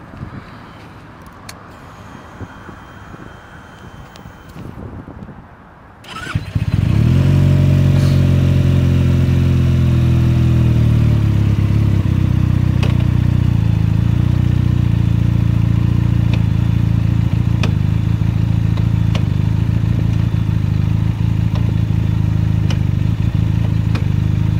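A Benelli TNT-300 motorcycle engine starts after a few quiet seconds, then idles steadily and loudly up close, a constant mechanical drone that runs to the end.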